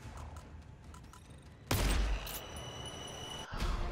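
Gunfire in the co-op shooter game GTFO erupts abruptly after a quiet stretch, a loud burst of rapid shots with a ringing tail, then another sharp report near the end.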